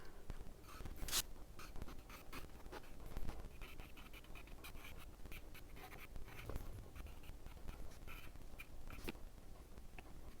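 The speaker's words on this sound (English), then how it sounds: "I'm going to go ahead and use my pastel pencil and just sketch those in first." A pastel pencil sketches flowers onto a wooden calligraphy sign with soft, steady scratching strokes, close and continuous, with brief louder scrapes.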